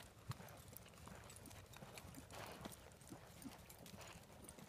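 A young colt cantering on a circle, faint rhythmic hoofbeats on soft ground, distant and steady with low background noise.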